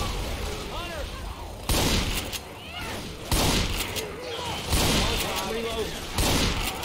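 Pipe bomb and chaotic gunfire in Left 4 Dead 2, with several loud bursts of blasts and rapid shots crashing in over a busy background of zombie noise and players talking.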